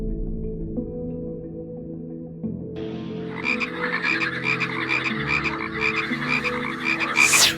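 A dense chorus of many frogs croaking in overlapping pulses, starting sparse and low, then swelling into a loud, busy, continuous throb with rapid rhythmic calls near the end.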